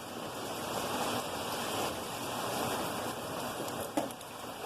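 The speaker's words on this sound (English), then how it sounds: "it's raining right now" Rain falls steadily outdoors during work on an 82-92 Camaro, a continuous broad hiss of drops at an even volume, with a single faint knock near the end and no voices.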